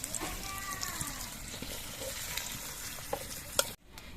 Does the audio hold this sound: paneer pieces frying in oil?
yes